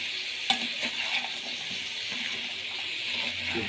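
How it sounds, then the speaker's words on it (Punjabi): Close, steady sizzle of mixed vegetables frying in a tempered pan without water, with occasional scraping and clinks as they get stirred, no talking. "ਸਬਜ਼ੀ ਨੂੰ ਚੰਗੀ ਤਰ੍ਹਾਂ ਮਿਕਸ ਕਰ ਦਵਾਂਗੇ"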